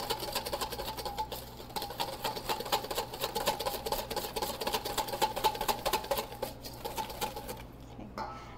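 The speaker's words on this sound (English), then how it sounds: "I've got my egg yolks in my bowl here, and I'm just going to whisk them." Egg yolks being whisked in a bowl for a German chocolate whoopie pie filling, a fast, steady, rhythmic clatter of whisk against bowl continuing for several seconds, fairly close and even.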